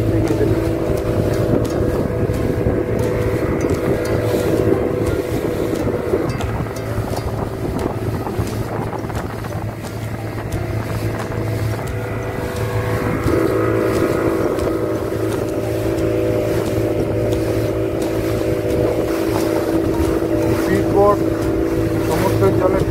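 A boat heads across emerald-green sea toward Ross and Smith Island off Diglipur in the Andaman Islands. A steady engine drone and rushing water fill the whole stretch, with wind buffeting the microphone and a voice murmuring beneath.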